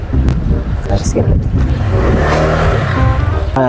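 Motor tricycle engine pulling away, a close, rough low motor rumble that rises as it drives off, with people talking loudly over it.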